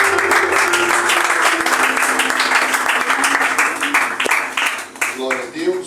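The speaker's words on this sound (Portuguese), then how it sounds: "Uma salva de palmas para Jesus." A church congregation gives a round of applause for Jesus, steady dense clapping that carries on for several seconds and thins near the end, with a voice speaking over it.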